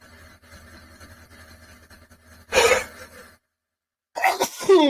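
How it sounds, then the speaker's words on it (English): Two sharp sneezes, the first after a stretch of faint background noise, the second following a brief silence, both loud and close. "Why did you sneeze in your palm like that?"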